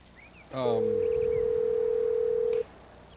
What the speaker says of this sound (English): Here, we're calling Ben Farr.